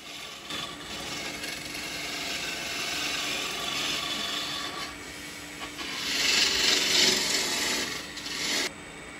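A wood-lathe gouge shaves a spinning blank down into a smooth cylinder, a steady close rasping scrape with a brief louder patch near the end and no talk.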